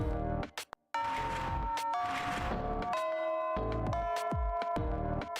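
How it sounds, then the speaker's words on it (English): A school bell chimes in the Fate/Extra video game, sustained ringing tones stepping through a short melody in a classroom scene, clear and moderately loud after a brief silence. "As if right on cue, Miss Fujimura barges into the classroom as the bell sounds."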